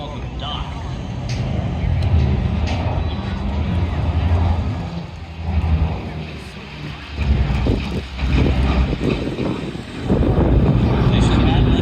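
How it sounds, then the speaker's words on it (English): Boeing B-29 Superfortress bomber Doc flying at an air show, its propeller engines a heavy droning roar that swells and fades, with crowd voices talking over it. "The B-29 Doc."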